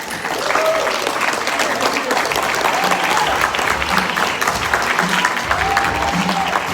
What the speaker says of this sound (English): So you should give yourselves a round of applause as well.